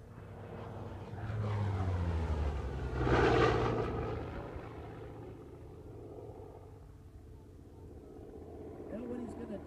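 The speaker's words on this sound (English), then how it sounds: "Here we go, final pass of the Bearcat, coming in from the right." An F8F Bearcat propeller fighter makes a flyby pass from the right, its engine drone rising to a loud peak around the midpoint then fading into the distance, under light talk.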